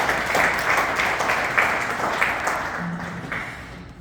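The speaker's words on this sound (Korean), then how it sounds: "큰 박수로 맞이해 주시기 바랍니다" Audience applause greets a speaker at a research presentation, a steady wash of clapping heard alone that fades slightly toward the end.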